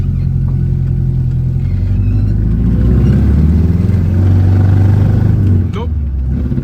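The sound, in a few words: Triumph TR4A engine running rough and revving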